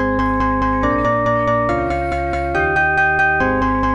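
Beepbox chiptune arrangement at 140 BPM using a glockenspiel voice, with bright, sustained synthetic tones stacked over a dense bass layer, the chords changing every beat or so in a loud, steady, close-up loop.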